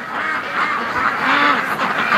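Ducks at a lake give a steady run of nasal quacks and honking calls, fairly close and continuous, with no talking over them.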